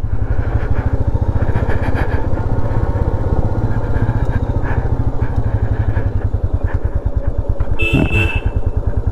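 A motorcycle climbs a steep mountain road on a Sikkim tour near Pelling, its engine loud and close with a steady throbbing rhythm throughout and a brief clatter near the end.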